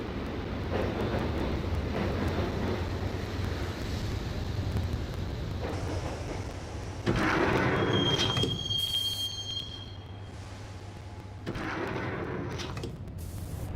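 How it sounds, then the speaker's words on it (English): Train ride in the Max Payne video game: a steady low rumble of the moving carriage with sliding-door and metallic clatter bursts, a brief high squeal near the middle, no talking. "the train doors had already shut behind me, and I was in for the ride"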